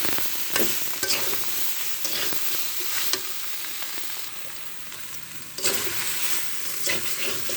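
Potatoes and taro sizzle steadily in a frying pan, with a continuous hiss broken by scraping stirs and clinks of the spatula throughout, loud and close with no talking.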